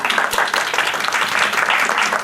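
A classroom of students claps for themselves, a dense, steady patter of many hands filling the whole moment at moderate loudness with no speech over it.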